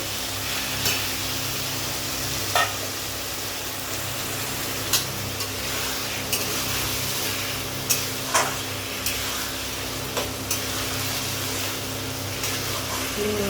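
Banana flower curry (mochar ghonto) being stirred in a pan: a steady sizzling hiss over a low hum, broken by sharp spatula taps against the pan every second or two.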